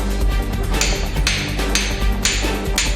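Hammering on a whole roast pig being cut into pieces by a butcher, a steady series of loud, close, evenly spaced metallic strikes over a constant background hum.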